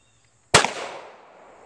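A single sharp pistol shot from a CZ Shadow 2, an all-metal handgun with a heavy recoil spring, fired at a shooting range, with a loud crack followed by a short echoing decay.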